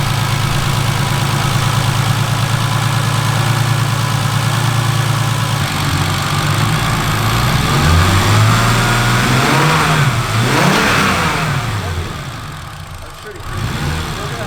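A turbocharged BMW E36 with a worn-out turbo idles steadily, then revs up and down in several rising and falling sweeps before settling, loud and close, with people talking over it.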